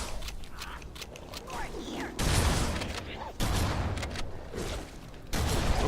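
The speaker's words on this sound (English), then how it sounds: "This is a shotgun." A shotgun firing 8-gauge shells in the Halo video game, with a few loud blasts over mechanical pump and reload clatter amid steady game background noise.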